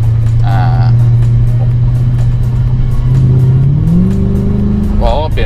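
A 2008 Mercedes-AMG C63 with its V8 revs under acceleration, a steady low engine drone rising in pitch toward the end, loud and close from inside the car, with voices talking briefly over it.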